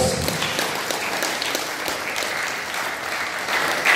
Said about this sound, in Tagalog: pwede po bang bigyan natin ng isang masigdahong palakpak ng ating Diyos